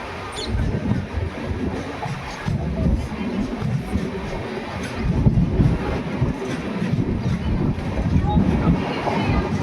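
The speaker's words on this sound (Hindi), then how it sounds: "तो कुछ देर रुकने के बाद ट्रेन डिपार्चर हो रही है बनस्थली निवाई रेलवे स्टेशन से" A train pulls away from Banasthali Niwai railway station on the Dayodaya Express, a steady low rumble and rolling clatter of the carriages that swells slightly as it moves, close and continuous with a voice talking over it.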